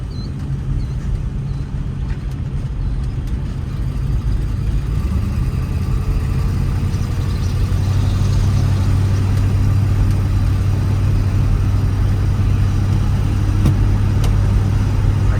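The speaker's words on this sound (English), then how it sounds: "the exhaust leak has died down a little bit as this engine is warmed up" A 1955 Packard Clipper Super Panama engine idles steadily with a rough, sputtering exhaust rattle from an exhaust leak, continuous and close, with no voices.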